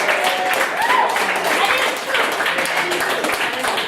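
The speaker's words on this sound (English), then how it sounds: "let's get a round of applause for the guest on one more time, Miss Jen Newsom" Audience applause at a roast for guest Jen Newsom: a dense, steady wash of clapping and crowd noise that holds fairly loud throughout.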